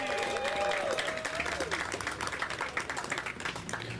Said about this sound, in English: Give Gavin's mom, Rashida, a round of applause as well.